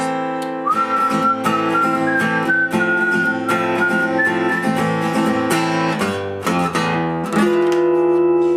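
A clear whistled melody rides over a strummed guitar accompaniment in a song, the tune rising and falling steadily through a full, loud song recording.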